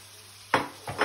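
Potato pieces dropped into a hot frying pan, placed over medium-low heat for a Spanish tortilla: two short sizzling bursts close by, the second broken into a pair of quick hits, with no talk.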